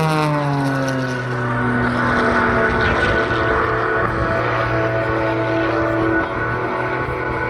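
Pitts Pro aerobatic plane at a Central Coast airshow, its engine droning steadily with shifting pitch as power is pulled back and reapplied, heard from a distance as a continuous loud hum.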